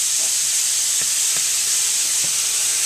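Apple wine vinegar and berry vinegar hitting a hot pan, giving a steady hiss of steam and sizzle with a few faint ticks and pops scattered through it, close and continuous with no talking.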